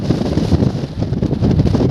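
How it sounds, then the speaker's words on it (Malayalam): Strong wind buffets the microphone on a hilltop rock at Thangal Para in Vagamon, a loud, steady, low roar with gusty fluctuations throughout and no voices. "നല്ല കാറ്റടിക്കുന്ന ഏരിയ"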